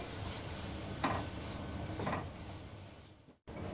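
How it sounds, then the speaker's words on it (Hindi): Two tablespoons of flour frying in two tablespoons of butter over a slow flame, a soft steady sizzle with two brief louder scraping stirs, no talking. "2 टेबलस्पून इसमें मैदा डाल देंगे। स्लो फ्लेम पे इसको फ्राई कर लेंगे।"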